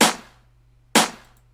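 Two snare samples from an old drum kit layered into one thick, bright hit, played twice nearly a second apart, each a sharp crack fading over a few tenths of a second, alone and close.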